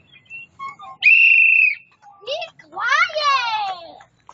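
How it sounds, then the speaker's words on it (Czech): A young girl whistles outdoors, a few short tones followed by a sustained loud whistle, then rising and falling warbling whistles, near and clear with no other voices. "už by si mohla přestat pískat"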